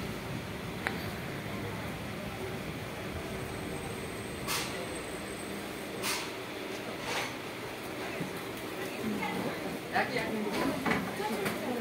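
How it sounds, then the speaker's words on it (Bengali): A moving passenger train bound for Howrah, heading toward Begampur station, fills the carriage with a steady close rumble and occasional sharp clacks. Voices murmur throughout. "ট্রেন ছেড়ে দিয়েছে, পরবর্তী স্টেশন হচ্ছে বেগমপুর।"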